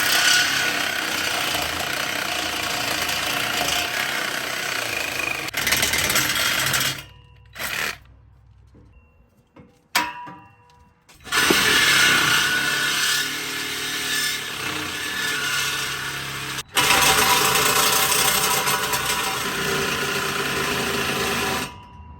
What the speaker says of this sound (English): So I have the certified exhaust cutting machine right here. We're gonna cut it in 3 places.